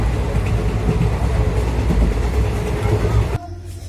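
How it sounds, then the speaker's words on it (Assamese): Steady loud rumble and rattle inside a moving passenger train, dense low-frequency noise running continuously before dropping abruptly to a quieter hum near the end. "এয়া ট্ৰেইন পালোঁ উঠি ল'লোঁ"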